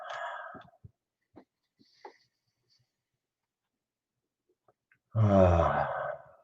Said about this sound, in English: take a good deep breath